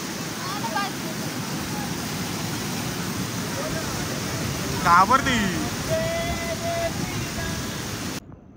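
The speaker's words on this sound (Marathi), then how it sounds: "हा खरा मोठा धबधबा आहे" A large waterfall roars steadily and close by, a thick unbroken rush of falling water, while people talk over it.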